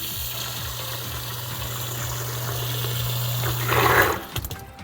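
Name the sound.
water draining from basement drainage liner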